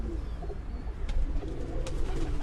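Pigeons coo on a rooftop in Gujarat, soft repeated low calls close by over faint background noise.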